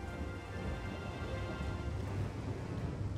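Rain falls in the Total War: Three Kingdoms strategy game, a dense, steady roar of downpour with a low rumbling underneath that holds evenly throughout.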